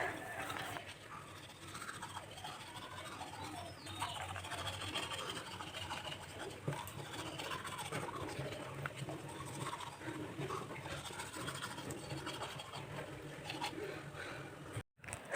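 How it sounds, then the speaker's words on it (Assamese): Steady scrubbing and rubbing of a toothbrush working back and forth in a mouth, continuous and close for the whole stretch, with faint room noise underneath. "এতিয়া মই কৰিম ব্ৰাছ"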